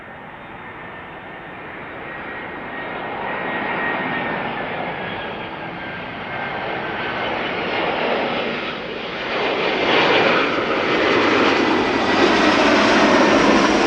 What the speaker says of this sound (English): 3 airplane glide slope shot, ITA, Air Canada, KLM.